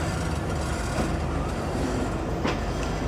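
From inside the Mehar Express passenger train on the ML-2 line, a loud, steady roar of the carriage on the rails carries a dense rhythmic clatter and a brief squeal of the wheels.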